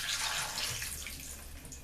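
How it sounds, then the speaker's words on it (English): Water pours from a tap into a baking dish used for marinating steak, a close, rushing splash that is loudest at first and then eases slightly, with no talking. "Just added some water to the dish that we marinated the steak in"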